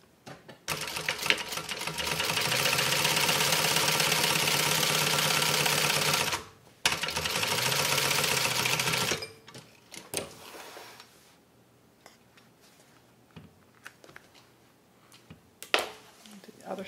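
A sewing machine basting the ends of a three-zipper fabric pouch at a 1/8-inch seam allowance, running in two steady loud stretches with a brief pause between, then falling to quieter intermittent clicks and handling.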